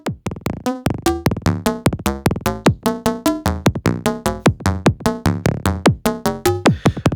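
Acid techno patch on a Make Noise 0-Coast modular synthesizer: a fast, steady stream of punchy, resonant plucked synth notes with shifting pitch, loud and continuous with no talking.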